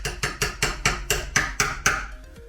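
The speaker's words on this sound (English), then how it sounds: "I'm just going to neaten it up with my chisel." A chisel trims a wooden edge on a widebeam boat: about eight sharp, evenly spaced knocks, roughly four per second, close and crisp, with no talking.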